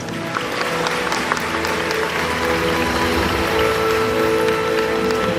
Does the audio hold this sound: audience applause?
yes